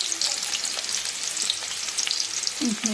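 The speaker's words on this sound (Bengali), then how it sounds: "আরও কটা আছে অল্প অল্প করে ভেজে তুলব" Small batches of food fry in hot oil in a pan with a steady, close hiss and scattered crackles throughout; there is no talking.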